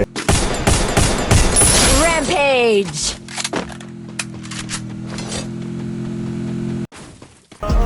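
Gunfire in a shooting video game, with rapid bursts of shots and sharp cracks early on, then quieter game effects and a steady drone, while a player talks over it.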